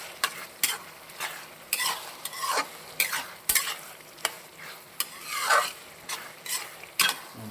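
A spoon stirs Assamese-style pork curry in a sizzling pan. Repeated scraping strokes come in an uneven rhythm, close and fairly loud, over a soft frying hiss.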